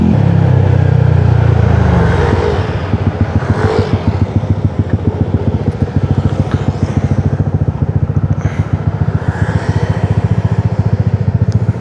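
A Yamaha Aerox V1 scooter runs on a city street, its engine putting in a close, steady, rapid rhythmic pulse. A burst of wind rush opens the ride before the motor's even chugging takes over.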